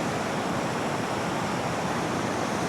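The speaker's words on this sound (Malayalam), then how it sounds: "അതങ്ങനെ നല്ല ശക്തിയായിട്ടാണ് ഒഴുകി പോകുന്നത് ആ തോട്ടിലേക്ക്" Water gushes forcefully from an opened dam shutter into a stream in a village near Pollachi, making a steady, loud, unbroken roar.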